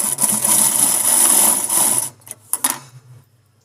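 A sewing machine stitching the piping edge of a blouse, a close, fast whirring run of about two seconds, then a few short bursts of stitching before it stops.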